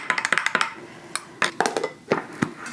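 A metal spoon clinks repeatedly against the inside of a cup while stirring morning coffee with added chocolate mint flavouring, a quick run of bright taps followed by a few spaced, sharper knocks, close and clear with no talking.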